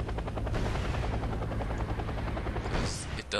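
Game helicopter in Wargame: European Escalation, a steady loud rotor thump and turbine drone throughout, with gunfire-like crackles near the end and a voice talking over it.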